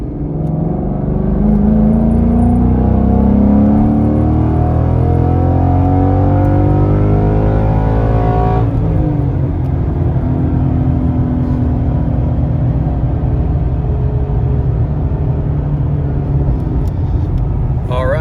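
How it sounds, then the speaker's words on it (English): A Ford Mustang GT 5.0 (S550) in a third-gear wide-open-throttle pull, its loud engine note rising steadily in pitch, then a brief dip at a shift point before the roar carries on strongly to the end. "All right, so here's third gear, wide open pull."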